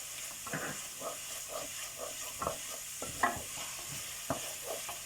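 Spices and garlic frying in a pan, a soft continuous sizzle with scattered spatula scrapes and taps as they are stirred, close and moderately quiet.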